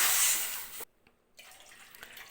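Water poured from a small cup into a kadai for making rice-flour vathal: a loud, splashing pour for under a second, a short pause, then a softer, steady trickle.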